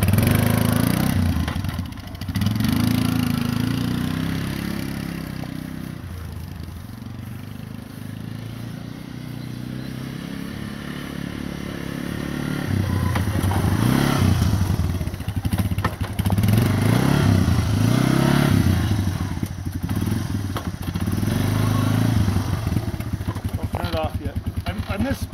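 A 1985 Honda Big Red three-wheeler's engine runs steadily up close, rising in pitch as it is shifted into reverse, with someone talking over the running motor.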